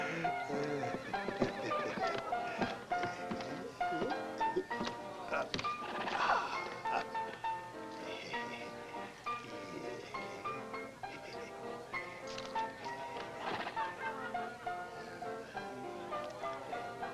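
A horse whinnies amid clip-clopping hooves in a spaghetti Western scene, set under a constant, busy bed of music and other film sound.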